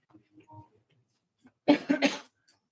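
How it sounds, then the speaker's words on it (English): A few short, harsh coughs come in a quick cluster after some soft breathy noises, fairly close and otherwise quiet. "A little bit of a coughing jag there."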